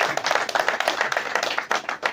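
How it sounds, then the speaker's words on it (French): A small gathering at a popular reflection circle in Africa claps in a quick, uneven patter of hands, fairly close, filling about two seconds with no talk over it. "Si vous pouvez encore applaudir pour moi quand même"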